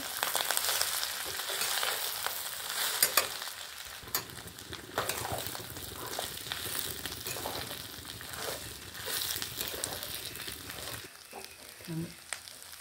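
Poha mixed in a pan over low gas with cucumber and coconut, fairly quiet, with soft frying crackle and rustling, scraping strokes through the flakes that pause briefly toward the end.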